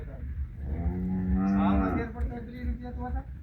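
A cow gives one long, deep moo close by, rising and then fading, with low background rumble around it.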